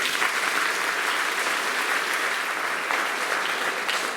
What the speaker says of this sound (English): Could you give another round of applause for Sheen?